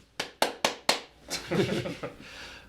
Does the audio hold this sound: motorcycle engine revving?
no